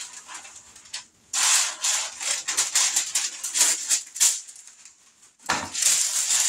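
Parchment paper is crumpled into a wad by hand, a close series of loud, crackling crinkles in irregular bursts, with a brief lull before a final crunch.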